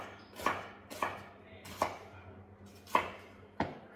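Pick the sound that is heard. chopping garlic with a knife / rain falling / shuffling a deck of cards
chopping garlic with a knife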